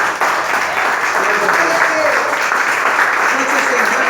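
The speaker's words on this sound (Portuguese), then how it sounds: "Vamos aplaudir o Senhor Jesus" Congregation applauding during a Portuguese-language church service, steady loud clapping that fills the whole stretch, with voices and a faint tonal sound mixed in underneath.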